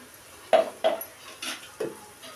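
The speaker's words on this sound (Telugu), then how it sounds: "ముందుగానే పట్టి పెట్టుకొని ఉన్నానండి మసాలా, అది ఇప్పుడు పోసుకుంటున్నానండి" Pre-ground masala paste goes into a pan with coconut, marked by four sharp metallic knocks of a spoon against the pan, spaced about half a second apart, close and clear in a quiet kitchen.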